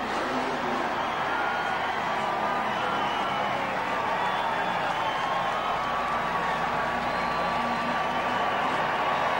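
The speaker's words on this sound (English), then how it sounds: "listen to the crowd" A big NASCAR race crowd at Atlanta roars and applauds after the 2001 Cracker Barrel 500, a dense, unbroken wall of cheering from far across the stands that stays loud and even throughout.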